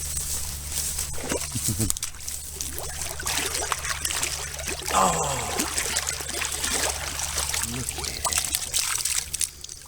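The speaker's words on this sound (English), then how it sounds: "You hear that thing filling with water when I popped it out of the hole." Water pours and trickles into a dug-up object just pulled from a hole at a Virginia dig site, a wet gurgling stream heard close with bursts of flow, alongside brief handling noises and a steady low hum.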